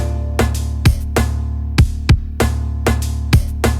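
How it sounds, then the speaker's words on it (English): A steady drum machine groove with a deep kick, snare hits and sizzling cymbal-like accents repeating in a tight, even pattern, like a synthetic acoustic drum kit. "Yeah, that sounds like an acoustic kit,"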